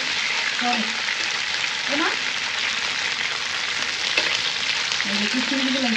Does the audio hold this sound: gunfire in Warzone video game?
no